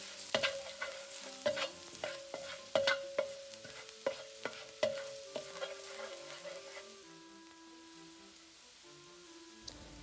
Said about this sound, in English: stir-fry some minced garlic until it's nice golden brown